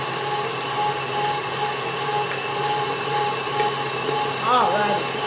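An electric mixer whirs steadily through white chocolate cake batter, a constant droning hum that holds at the same level throughout, with a brief change in pitch near the end.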